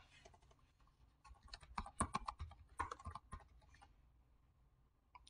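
Typing on a computer keyboard while entering text into an Excel spreadsheet, a quick flurry of close, crisp key clicks that builds in the middle and then tapers off into quiet.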